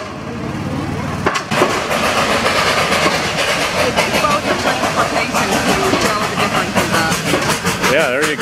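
A zoo train rolls past on its tracks outdoors with a loud, rumbling clatter and rhythmic clickety-clack of wheels, continuing for several seconds while voices talk over it.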